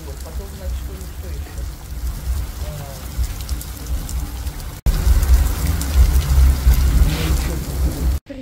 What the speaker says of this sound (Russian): Приехали в Таллин на дне моря, попали под дождь